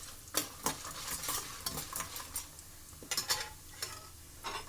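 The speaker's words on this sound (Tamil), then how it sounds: "இதுக்கு நல்லா பொரிஞ்சாட்டும்" Spices sizzling and frying in hot oil while being stirred, with short crackling bursts and scraping strokes against the pan, close and moderately loud, during preparation of lemon rice.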